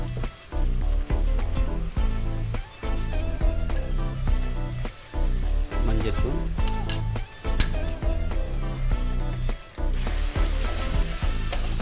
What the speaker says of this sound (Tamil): இதுக்கப்புறம் இது நல்லா இப்போ கொஞ்சம் வதங்கட்டும் அந்த ஆனியன்